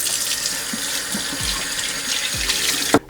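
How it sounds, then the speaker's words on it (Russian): Running tap water splashing over grill plates in a sink as they are washed with the soft side of a sponge and a little detergent, a steady close wash with a few brief clunks. "Пластины я мою мягкой стороной губки с небольшим добавлением моющего средства."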